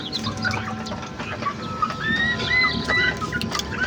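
Newly hatched chicks cheep in thin, high chirps near hens clucking softly in a backyard coop, small scattered calls with a few rising peeps over low rustling.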